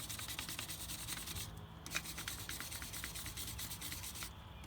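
A thin brush scrubs the wheel hub mounting surface of a 1992 Crown Victoria, giving a steady rough rubbing sound with quick repeated strokes, close and moderately loud, with no talking.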